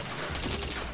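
Gunfire from a first-person shooter video game, a dense burst of rapid shots packed into one second, loud and close throughout with no talk over it.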